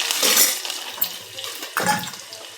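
Mustard seeds hit hot oil in a pan, a bright crackling sizzle that flares at the start and again near the end, with small clinks of utensils and no talking.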